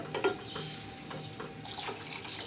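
Water is poured into a cooking pot of jackfruit seeds and potatoes for boiling, a soft gurgling splash with light clinks from the pot, fairly quiet and close, with no voices.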